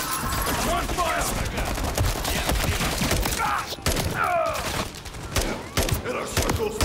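Dense, rapid gunfire from Call of Duty Modern Warfare 3, overlapping bursts and single shots filling the whole stretch with little pause, loud and close, with thuds and game voices mixed in.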